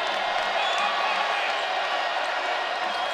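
Arena crowd at a women's college basketball game between Virginia Tech and Notre Dame, a steady dense roar of cheering that holds at an even level throughout the short stretch.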